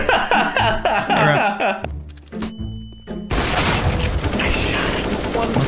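Rapid gunfire rattles in bursts in Counter-Strike: Global Offensive, then breaks into a short lull with single thuds before heavy firing resumes, and voices are heard over the shooting.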